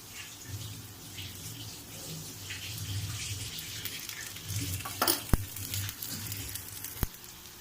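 Oil drizzled around a sorghum flatbread in a hot pan brings a soft, continuous sizzle under a low background hum, punctuated by a couple of sharp metallic clicks near the end.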